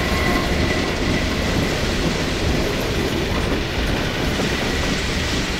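In the video game Half-Life 2, a passing train makes a loud, steady rumble of wheels and carriages close by, with no speech over it.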